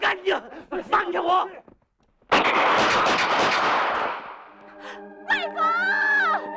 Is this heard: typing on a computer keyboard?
no